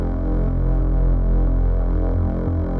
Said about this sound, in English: that rumbling sound, it's this LFO going to the XP filter on the second wavetable